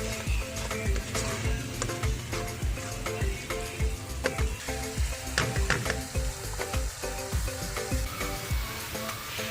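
Salt, chili and spices frying with ground chicken keema for an aloo matar dish, a loud steady sizzle broken by frequent sharp scraping strokes of a spatula against the pan, with no talk.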